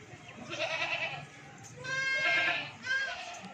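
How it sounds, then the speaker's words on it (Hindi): A goat on a livestock sale ground bleats several times at close range, with wavering, nasal cries separated by short pauses over low background noise. "और ये बकरी है"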